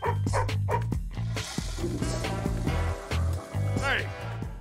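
A cartoon dog in the Madagascar: Escape 2 Africa video game yips and whimpers in repeated short bursts, up close, with background music playing underneath.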